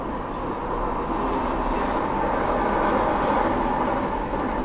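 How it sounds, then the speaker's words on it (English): Steady, continuous rumble of several trains rolling past, broadband and sustained at an even loudness throughout with no voices. "There's 3 trains going past right now."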